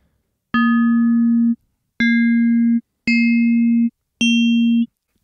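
Four bell tones from FM synthesis on a Synthstrom Deluge, each a bright struck attack with a shimmering overtone that fades quickly over a sustained low hum, played evenly one after another with short silences between.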